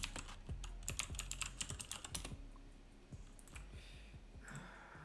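Rapid touch typing on a computer keyboard: a fast, close run of crisp keystroke clicks for a couple of seconds, then a few scattered taps over quiet room noise.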